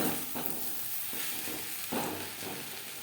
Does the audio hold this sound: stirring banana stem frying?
yes